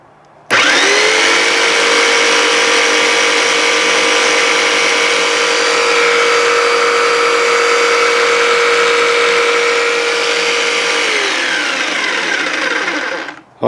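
A fast electric saw similar to a scroll saw switches on and runs for about thirteen seconds. It gives a loud, steady, high motor whine and then spins down and stops, with no talking.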